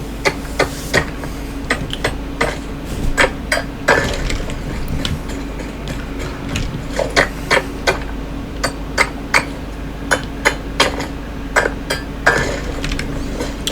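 Hand-mining a resource node in the video game Satisfactory produces a steady series of sharp, clinking chisel strikes on rock, repeating at an uneven rhythm over a low ambient hum, with no talk.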